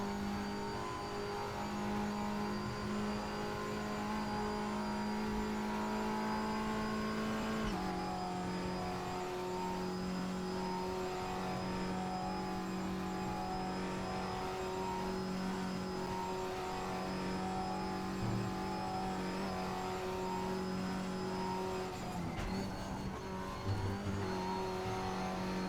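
An Audi TT race car engine in a racing video game drones steadily at high revs, with a sharp gear-change drop partway through and brief tire noise near the end, with no voices over it.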